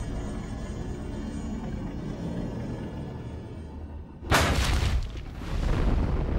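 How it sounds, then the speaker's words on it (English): Rockets firing and exploding in the 2003 Star Wars Clone Wars animated series: after a low steady rumble, a sudden loud blast bursts in, followed by a second surge of heavy booming noise. "here comes the rockets"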